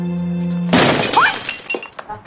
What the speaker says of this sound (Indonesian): Lian menendang pot bunga hingga hancur.